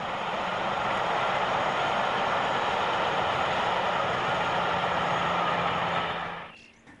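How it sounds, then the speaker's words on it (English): A steady, loud rumble of a passing lightweight steam train at Winwick in 1966–67, with rolling rail noise that fades away in the final second. "This lightweight train is joining the main line from the Earlstown direction."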